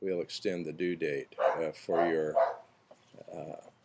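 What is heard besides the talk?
neighbor's dog barking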